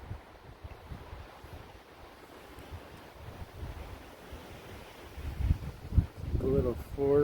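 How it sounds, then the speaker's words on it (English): Wind buffets the microphone with low rumbling gusts during a late-season bowhunt in New Mexico, growing stronger toward the end, as a voice talks briefly near the close. "It's a windy sucker."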